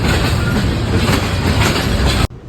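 A crowded local passenger train between Bhairab and Dhaka Airport stations in Bangladesh rumbles loudly with constant rolling wheel and carriage noise from inside, cutting off abruptly near the end.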